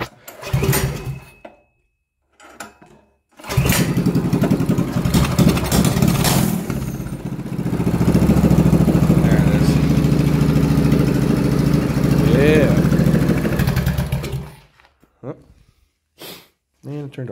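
A mini Harley-Davidson minibike engine is cranked and sputters to life, then settles into a chugging, uneven idle for about ten seconds before dying, close and loud, with scattered clicks and handling noise before and after.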